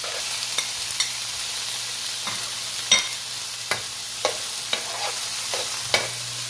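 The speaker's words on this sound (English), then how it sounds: "just blend everything together, people." Spoon stirring a saltfish medley frying in olive oil in a pot, with a steady sizzle underneath and about a dozen soft scraping clicks at an uneven pace, close and alone.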